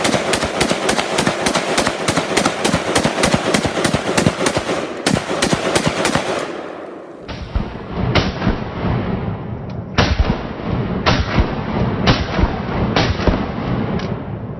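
Rapid gunfire from a firearm shooting at a steel target setup, loud sharp repeated shots in fast bursts, briefly pausing before resuming with steady heavy reports.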